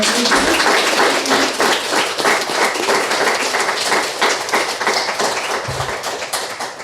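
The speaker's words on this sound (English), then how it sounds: "So can we have a round of applause for" Attendees at a private HR event give a vigorous round of applause, many hands clapping loudly and steadily, slightly tapering toward the end.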